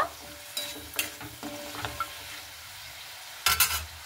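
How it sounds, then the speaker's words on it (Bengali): Spinach curry with lentil dumplings is stirred in a pan, with soft sizzling and a few distinct scraping strokes, the loudest burst near the end. "আমি এইভাবে কিন্তু খুব ভালো মতো করে একটু নাড়াচাড়া করে নেব"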